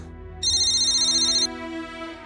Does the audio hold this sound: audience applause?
no